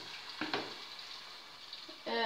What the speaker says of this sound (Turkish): Kıymayı kavurdum.